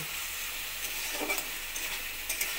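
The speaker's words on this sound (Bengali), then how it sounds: "যতক্ষণ না আদা রসুনের কাঁচা গন্ধ চলে যাচ্ছে ততক্ষণ একটু ভেজে নেব" Ginger garlic paste fries in a pan for a potol and soybean curry, giving a soft, steady sizzle with light stirring scrapes, close but fairly quiet.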